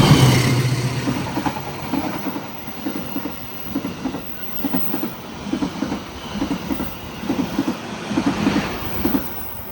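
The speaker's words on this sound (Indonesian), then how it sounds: "kereta berhenti di stasiun Papar untuk bersilang dengan kereta api Kertanegara" A passenger train pulling into a station in Java to cross another train, its wheels clacking in a steady rhythmic beat over rail joints that gradually slows, loud and close from inside the carriage.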